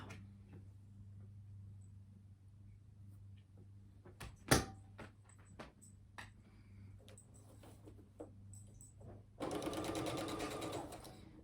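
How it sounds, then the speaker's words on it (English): A home sewing machine stitches a tombstone quilt block, its low steady motor hum running throughout with scattered clicks and a sharp knock midway, then a louder, faster burst of stitching near the end. "I can't drive a sewing machine and talk to my camera"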